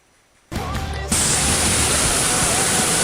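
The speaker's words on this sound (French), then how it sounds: "Là je suis derrière une cascade, la cascade Churrillo del Salto." A loud, steady roar of falling water fills the scene after a brief quiet start, close and continuous, heard from behind the Chorrillo del Salto waterfall near El Calafate, Argentina.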